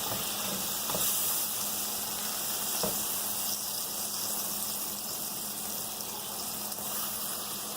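Shaved Philly cheesesteak meat sizzling in a hot frying pan, a steady loud hiss and crackle throughout with a couple of soft scraping knocks as it is moved, no talking.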